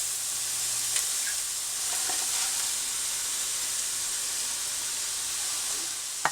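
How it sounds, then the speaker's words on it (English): Kale sautéing over low heat in a pan, a steady bright sizzle and hiss throughout, with faint scraping as it is gently stirred. "Just going to give it a gentle mix and keep stirring until the kale becomes wilted"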